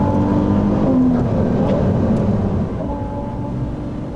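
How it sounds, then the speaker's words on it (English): A Ferrari 296 Speciale V6 supercar with a titanium exhaust end section drives on a sunny, dry day at Fiorano, giving a steady, loud, continuous engine drone with a slight drop in intensity toward the end. "and there goes the engine."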